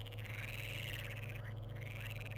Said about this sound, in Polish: te żaby to tutaj głośne są